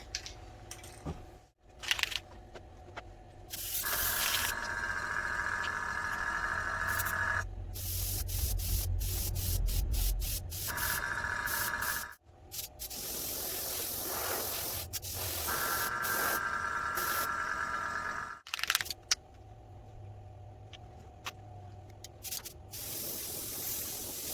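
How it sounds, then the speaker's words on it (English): Long hissing bursts of an aerosol spray can spraying black paint onto a crankbait fishing lure, several sustained sprays separated by brief pauses, close and steady. "we're going to spray some black on here"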